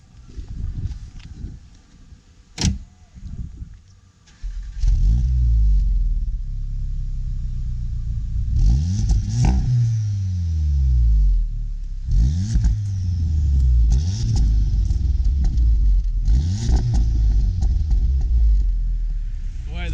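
A VW Golf GTI Clubsport 2-litre engine starts with a short burst, then revs repeatedly in rising and falling sweeps, loud and close, with a steady idle between revs.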